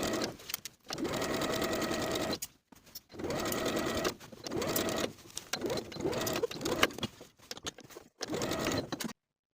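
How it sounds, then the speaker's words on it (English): A sewing machine stitches a side seam on a pair of pants in several bursts of rapid whirring, broken by short pauses. It sounds close and moderately loud, with no voices. "Sew from the end of the front stitches across the seam to the top of the back pant with a 3/8 inch seam allowance"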